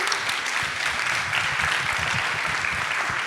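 A conference audience at FinOps X 2024 applauds the speakers, sustained mid-level clapping from a crowd that continues evenly without a break.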